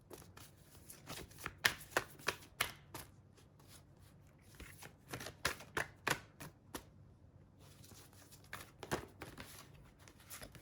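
Angel oracle cards are shuffled by hand in quick bursts of crisp riffling clicks. The bursts come in several clusters separated by short pauses and sound close but fairly quiet.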